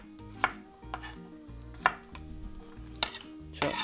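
Knife chopping garlic cloves on a cutting board while making doenjang soup, sharp separate chops in an uneven rhythm, close and fairly loud, with no talk.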